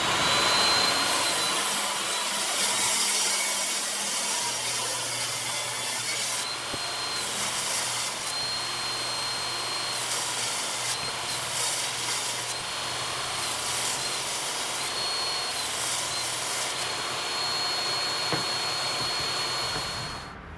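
A table saw rips walnut boards into 1.5-inch strips for a cutting board, a steady loud whine with broad rasping cut noise running continuously and close throughout, without talk.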